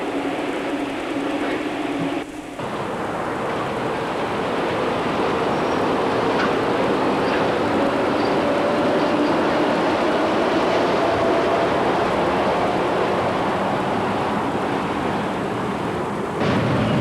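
An electric train with eight electric motors, one per pair of drive wheels across four cars on a roughly 700-volt system, giving a steady loud rumbling roar with a faint rising whine throughout.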